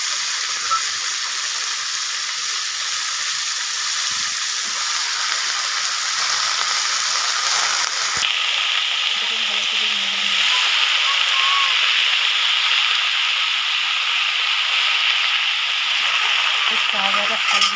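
Red saag greens hit hot oil in a pan and fry with a loud, continuous sizzle and hiss that dominates throughout, the tone shifting as the greens settle and get stirred.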